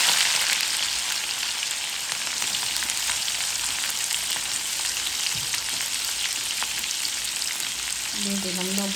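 Papaya, panch phoron spices, dried chili and onion frying in hot oil, giving a steady, close, dense sizzle throughout with faint stirring scrapes, and no talk.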